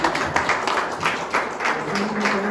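A church congregation claps together in a steady rhythmic beat, a close, moderately loud run of regular hand claps with a faint voice beneath.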